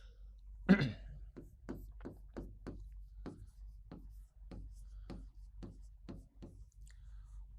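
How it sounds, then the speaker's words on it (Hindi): Chalk or marker strokes on a classroom board during a biology lesson on environmental conservation, about a dozen short scratchy marks in a steady rhythm, close and fairly quiet. "तो लिखता हूं मैं"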